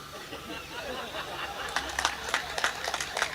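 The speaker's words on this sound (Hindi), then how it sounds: "ताली बजा दो आप" An audience at a Hindi poetry gathering (kavi sammelan) breaks into scattered, light clapping partway through, rising over a murmur of chatter and soft laughter.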